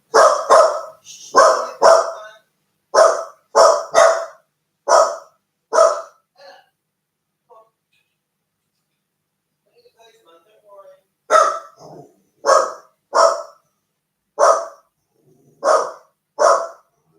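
Dogs bark loudly at a postman in a rapid series of sharp, close barks, pause briefly, then resume in another burst of repeated barks.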